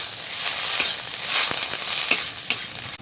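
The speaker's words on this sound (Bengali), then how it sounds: "মশলাগুলো একসাথে ভালো করে কষে নেব।" Ginger-garlic paste and chili powder fry with softened onions in a steady, close sizzle, broken by a few scraping stir strokes, with no talking.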